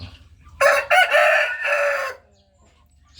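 A Brahma rooster crows once, close and loud, in a single drawn-out call of about a second and a half that briefly breaks near the start, with quiet farmyard background before and after.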